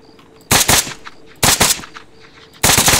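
Gunfire in Arma 3 comes as three loud, close bursts of rapid automatic shots, separated by short pauses, with no talk over them.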